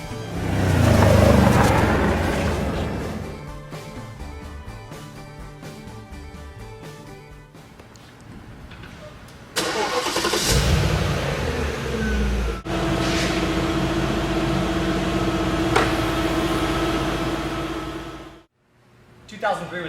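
Twin-turbo 4.2-litre V8 of a 2003 Audi RS6 with a 5-speed automatic, a steady engine note that swells and revs in bursts, running continuously under spoken narration before cutting off near the end.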